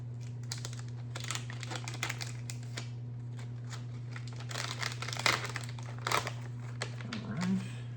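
Trading card packs from a Transformers collection get torn open, with close crinkling and crumpling of foil wrappers in irregular bursts over a steady low electrical hum, and someone talking throughout.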